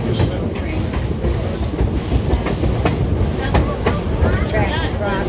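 A small train runs along its tracks, giving a steady rumbling roar with clickety-clack wheel beats and occasional squeals. Voices talk faintly underneath.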